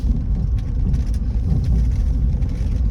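A small cart-like vehicle creeps slowly along a rocky road, its low engine rumble steady and close, with faint rattles and knocks from the rough surface over about three seconds.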